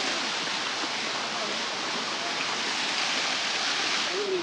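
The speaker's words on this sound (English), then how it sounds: "This is another waterfall flowing out from the rock, quite high." A high waterfall pours from a rock face in Cherrapunji, giving a steady, dense broadband roar of falling water with no pauses, loud and close, with faint voices in the background.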